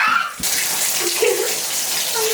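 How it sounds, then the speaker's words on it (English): Shower water runs steadily at close range, a broad hissing spray that keeps going throughout, with a brief change in the flow near the start, as it is readied for giving pet cats a bath. "she almost started the shower."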